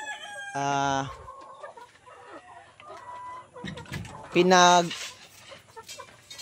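Gamecock roosters being readied for cockfighting crow loudly and close by in two long calls, with softer clucking and background farmyard noise in between.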